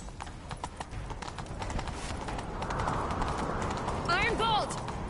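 Roach the horse gallops in The Witcher game, rapid hoofbeats pounding close and continuous under a dense wash of outdoor game sound, with a short high chirping near the end.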